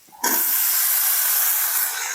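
Chopped raw jackfruit drops into hot spiced oil for a shrimp curry, bursting into a sudden loud hiss that holds steady and close, easing slightly at the end.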